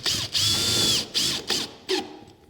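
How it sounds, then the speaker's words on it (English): Power driver sinking self-tapping stitcher screws with rubber seals into insulated metal clad roof panels of a garden room, several short whirring bursts close by, the first long and the later ones brief with pauses between. "we're going to fix this part of the roof down to this other part with these little stitcher screws"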